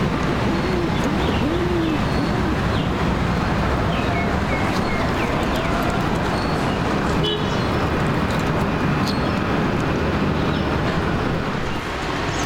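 Low cooing of a pair of Teddy pigeons under a steady, loud broadband rumble, with faint chirps scattered through the noisy background.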